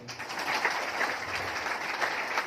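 Steady audience clapping at an open business seminar in a hall, a continuous moderately loud patter of many hands lasting the whole moment without a clear break.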